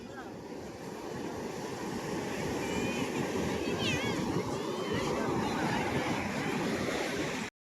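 Sea waves washing onto the beach at Somnath, a steady broadband surf roar with gusty wind noise on the microphone and faint voices in the background.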